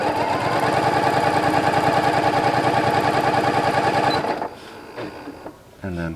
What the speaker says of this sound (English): start sewing again